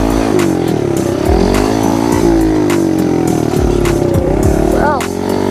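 A small dirt bike engine, a Kawasaki KLX110R or Rawrr Mantis Mini R, runs loudly and steadily close by, with pitch dipping and rising as the rider fails to shift gears; a rider's voice comes through in places.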